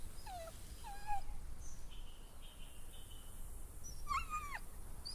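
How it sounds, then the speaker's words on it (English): A dog in The Walking Dead video game whimpers in a few thin, high whines, quiet and a little distant, over a steady bed of crickets and night ambience. "And even they brought the dog."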